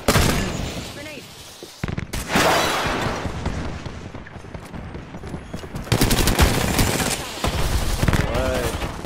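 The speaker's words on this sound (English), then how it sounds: "Grenade." Rapid gunfire crackles through a video game firefight, with a grenade blast booming amid the shots; loud, dense bursts come and go over several seconds while a voice talks over the action.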